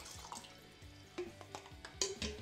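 SureSan no-rinse steriliser solution poured away from homebrew equipment, soft splashing and dripping with a few sharper drops and gurgles, close and fairly quiet.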